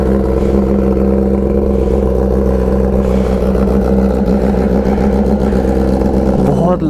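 A Kawasaki ZX10R motorcycle engine runs loud and close after a cold start, holding a steady throbbing idle with rumbling revs throughout, while people talk over it.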